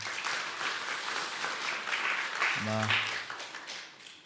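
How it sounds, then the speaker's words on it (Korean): An audience in a church congregation applauds in a dense, steady wash of clapping, moderately loud, as a voice speaks briefly over it and the applause gradually tapers toward the end. "한영이 박수 한번 해주세요"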